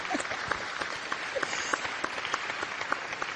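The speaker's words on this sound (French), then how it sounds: "On va l'applaudir. Bravo à vous." Audience applause at the opening ceremony of a neighbourhood talent event: a steady patter of many hands with a few sharper individual claps standing out, at moderate loudness.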